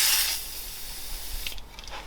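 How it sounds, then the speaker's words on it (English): WD-40 sprays onto a cloth during motorcycle reassembly: a strong close hiss at the start fades quickly, followed by quiet rustling and a few light mechanical clicks. "I'm going to use the WD-40 to clean up around here and all down in there."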